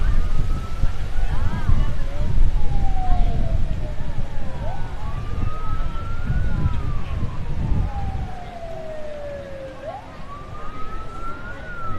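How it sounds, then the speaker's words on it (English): Fire and rescue apparatus sirens wail in a Memorial Day parade, rising and falling in slow sweeps over a rumbling, windy outdoor background, fairly loud and continuous throughout. "The sirens are getting louder and louder."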